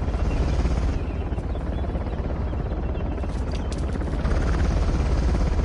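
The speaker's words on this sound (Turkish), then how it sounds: "Helikopter bizi deliler gibi arıyor." Helicopter hunting the players in the Uncharted video game, a loud, dense, continuous rotor and engine roar close by and steady for the whole stretch, with no talk over it.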